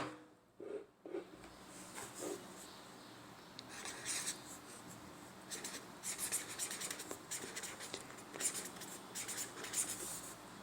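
Pen or pencil writing out the answer to a class 5 maths exercise on paper, with steady scratching and rubbing strokes in bursts, close and fairly faint, and no talk.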